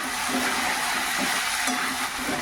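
Vegetables stirred in a pan with a little water, a steady broadband sizzle and hiss running continuously at moderate level with faint scraping pulses, no voices.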